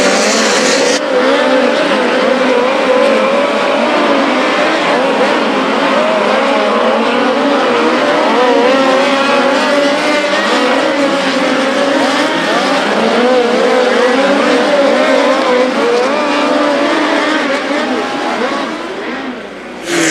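Sprint race cars running hot laps on the dirt speedway at the BC39, a loud continuous roar of engines circling, rising and falling as the cars pass, with faint crowd and announcer sound underneath.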